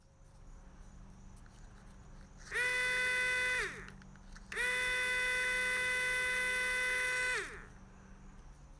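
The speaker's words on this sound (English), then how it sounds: "let's see how the pump sounds outside of the housing" A Powerstroke 6.0L HFCM fuel pump running outside its housing, two sustained high-pitched electric whines, about one and four seconds long, over a low background hum, close and loud, no talk.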